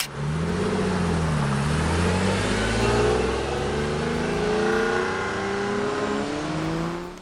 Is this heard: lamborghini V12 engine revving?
yes